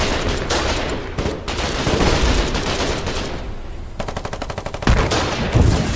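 Rapid bursts of machine gun fire in a World War II Alamo 1942 battle video game, with dense overlapping volleys, short pauses and a sharp evenly spaced rattle near the end, loud and close.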